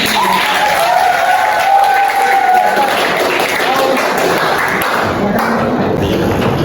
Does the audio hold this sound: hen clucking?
no